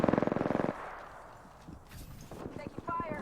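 Gunfire in Apex Legends: a rapid, evenly spaced burst of automatic shots up close, followed by quieter scattered shots and game sounds, with a voice speaking over the later part.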